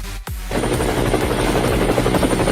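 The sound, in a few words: helicopter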